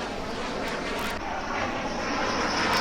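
Rafale fighter jets arriving at an airbase, a loud, steady broadband roar of jet aircraft that swells slightly toward the end, with no voices.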